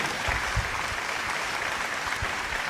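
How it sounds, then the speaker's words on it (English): Sustained audience applause at a company party, dense, steady clapping from a crowd filling the room evenly with no break. "A big round of applause, please, once again."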